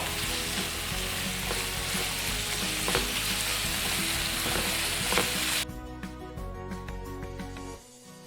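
A spicy masala mixture with salt, made for a Kerala-style crab fry, sizzles loudly in a pan while it is stirred. The frying cuts off abruptly partway through, leaving quieter clinks and faint kitchen sounds.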